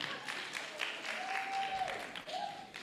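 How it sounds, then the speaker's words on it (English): Audience at a children's summit clapping for the security staff, a steady mass of applause with a faint tone running through it, moderately loud and without speech. "Will you clap for them,"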